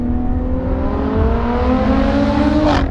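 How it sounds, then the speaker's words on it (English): Supercharged Lotus Evora 400 engine with an Edelbrock supercharger and charge cooler, revving on the road: a loud, steady drone whose pitch climbs smoothly under acceleration, then snaps quickly near the end. "Must have a very light flywheel because it revs up really quick on the blips"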